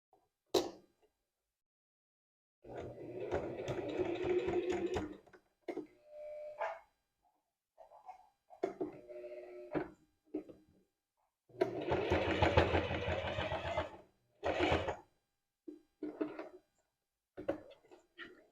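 A sewing machine stitches lace on a bra with short back-and-forth runs, coming in close, distinct bursts separated by quiet pauses.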